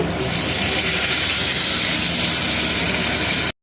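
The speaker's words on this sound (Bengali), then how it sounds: "আমি ওই তেলের মধ্যেই গোটা জিরে দিচ্ছি, তেজপাতা দিচ্ছি" Whole cumin seeds and bay leaves hit hot oil left over from frying potatoes, throwing off a loud, steady, close sizzle that holds evenly throughout and then cuts off abruptly.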